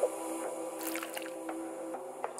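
Enemy thrown into poisonous water in the video game Reaper: Tale of a Pale Swordsman, making soft, wet squishing splashes and drips, quiet and scattered, with no speech.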